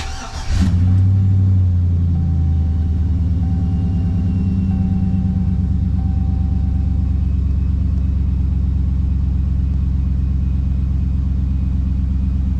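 A 2003 Chevrolet Silverado truck, after an intake manifold gasket job, cranks briefly, catches with a surge of revs, then settles into a loud, steady, smooth idle rumble heard from inside the cab.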